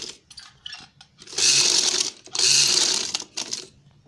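A sewing machine stitches maroon strips onto sea-green fabric backed with buckram, running in two steady bursts of rapid needle clatter, close by and loud, separated by short pauses.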